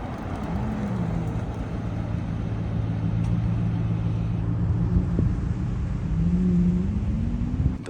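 A Ferrari F50 engine drones and revs at Monterey Car Week, a sustained loud rumble with rising and falling pitch sweeps.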